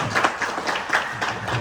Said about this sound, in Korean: 우리 이윤희 집사님 우리 박수 한번 드리겠습니다